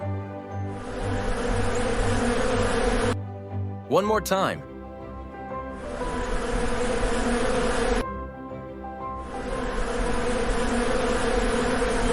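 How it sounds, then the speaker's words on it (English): A swarm of bees buzzes in a dense, steady drone that plays twice in long stretches, with a brief spoken voice in the pause between them. "A buzzing swarm of bees."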